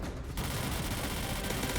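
Automatic turrets in the zombie game Zombie Uprising fire a dense, continuous burst of rapid gunfire that is loud and unbroken for the whole short stretch, with no voices.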